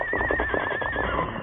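A horse whinnies in a radio drama, a single high, wavering neigh lasting about a second, clear and fairly close, with low background sound beneath it.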